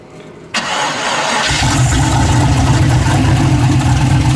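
A carbureted car engine fires up after a short crank and settles into a loud, steady, rough idle while it warms up. Heard close with no voices.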